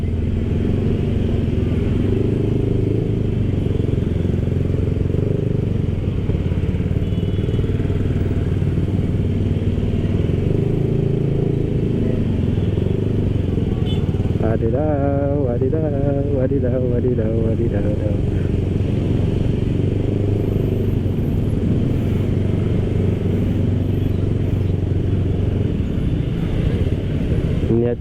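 Motorcycle engines idle and putter steadily in a heavy, slow-moving night traffic jam during the eve of Eid festivities, a dense continuous rumble with a person chanting briefly partway through.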